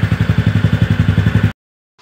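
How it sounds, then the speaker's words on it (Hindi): A TVS Ntorq scooter engine, just refitted, idles with a steady, rapid low-pitched putter and a slight clatter, loud and close. It runs alone for about a second and a half, then cuts off abruptly. "तो अब मैं आपको स्टार्ट करके बताता हूँ गाड़ी कैसी साउंड आ रही है।"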